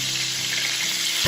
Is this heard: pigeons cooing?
no